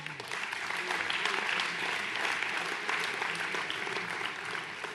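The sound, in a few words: audience applause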